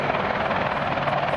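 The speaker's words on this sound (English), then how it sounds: "continue to operate the best attack helicopter in the world" AH-64 Apache attack helicopter flying at the RAF Cosford air display, its rotor producing a loud continuous thudding chop throughout, heard alone.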